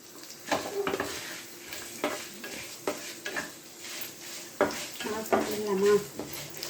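Spoon stirring fried dal and dried red chillies in a hot pan, repeated scraping strokes over a soft sizzle, close and fairly quiet.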